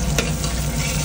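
Garlic and shallots fry in a pan with a loud, steady sizzle as they are stirred, a brief scrape rising from the hiss, with no talking.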